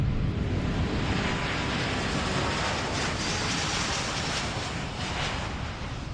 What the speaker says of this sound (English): This brand new A330neo from Delta represents one of the